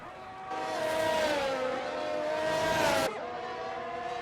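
Video-game Formula 1 race cars at the 2001 Australian Grand Prix scream past with a high, pitch-shifting engine whine that swells for about two and a half seconds, then cuts off sharply and fades into a quieter drone.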